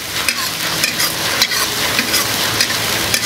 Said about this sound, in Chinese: 蒜下锅炒。